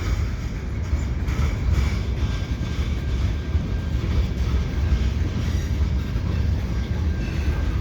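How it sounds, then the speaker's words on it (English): A loaded aggregate freight train rumbles past at the Lachine Canal bridge in winter, a loud, continuous low roar with steady rolling noise and no talking. "Now this will be a loaded aggregate train."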